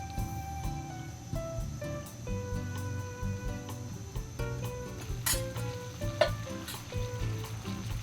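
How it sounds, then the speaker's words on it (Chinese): Oysters fry in a little salad oil in a pan over medium-low heat for an oyster omelet, giving a soft, steady sizzle with light crackles, fairly quiet and close, beneath faint background music. "那我们开中小火来煎就可以了。"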